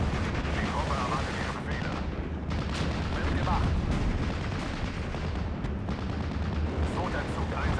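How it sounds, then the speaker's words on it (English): Incoming mortar fire in the WWII strategy game Steel Division: Normandy 44, a dense rumble of repeated thudding blasts and gunfire under continuous battle noise. "Got mortars coming in from the 3rd armoured player as well"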